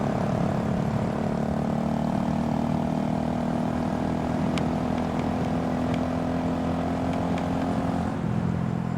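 A Honda Grom motorcycle climbs a canyon road, its engine giving a steady, loud drone with a constant hum for the whole stretch, heard close up under rushing wind.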